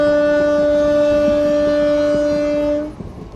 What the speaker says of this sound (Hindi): नंदीग्राम एक्सप्रेस के साथ में क्रॉसिंग।